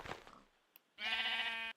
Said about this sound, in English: Here's a sheep spazzing out.